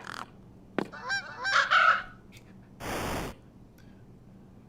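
Crows caw back and forth in a short exchange outdoors over a steady wind ambience, fairly close and clear, followed by a brief burst of noise.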